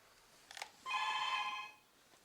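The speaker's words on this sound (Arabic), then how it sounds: "شو يابا؟ تليفون" A household telephone rings once in a single bright, trilling electronic burst, moderately near against a quiet room with a few faint knocks beforehand.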